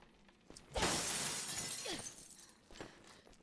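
Glass shatters in the video game Resident Evil Revelations 2, a loud crash followed by a lingering spray of falling shards, with a couple of faint clicks before and after.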